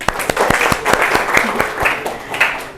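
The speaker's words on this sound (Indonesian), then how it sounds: "Oke, tepuk tangan dong." Schoolchildren clap their hands together in a classroom, a quick run of sharp, fairly loud claps with a ragged rhythm and some background murmur.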